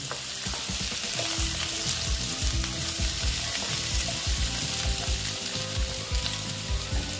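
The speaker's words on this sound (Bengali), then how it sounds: "আমি আবার মিষ্টি কুমড়োর সঙ্গে আবার এইগুলো ভাজা ভাজা করে দিচ্ছি" Pumpkin and spices fry in hot oil for a vegetarian chechki with bitter gourd and potato. A loud, continuous sizzle runs throughout, broken by frequent tapping stirs close to the microphone.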